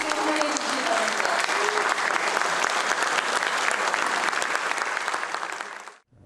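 An audience at a Democratic Party gathering applauds as the presidential candidate and party leadership enter, sustained dense clapping from many hands that holds steady for several seconds before cutting off abruptly.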